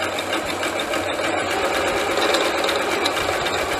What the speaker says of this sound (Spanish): vamos a coser la tela con la puntada zigzag.